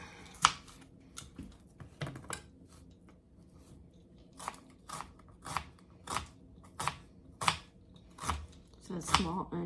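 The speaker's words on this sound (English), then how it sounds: "let me cut my onion" A knife cuts through a small onion on a board, a series of crisp, evenly spaced crunchy chops at close range over a quiet background.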